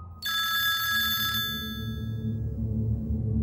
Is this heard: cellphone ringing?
yes